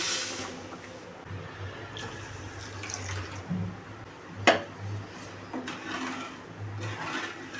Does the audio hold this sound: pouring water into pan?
yes